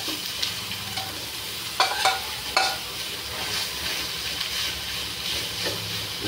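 Stingray (pagi) sautéing in a pan, a loud, steady close sizzle with a few sharp clattering stirs early on, then a constant frying hiss, with no voices.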